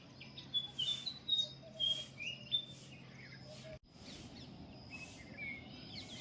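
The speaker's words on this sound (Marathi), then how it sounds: "कोंबड्यांचे आवाज, चिमण्यांचे किलबिलाट" Sparrows chirp in short, bright bursts on a quiet rural morning, several small calls scattered across a soft background hum, with no crowing clearly standing out.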